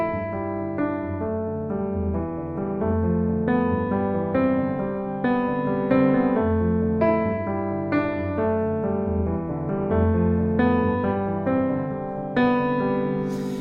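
A melodic piano riff plays alone, with repeated note phrases in a steady rhythm, clear and close, sustained throughout.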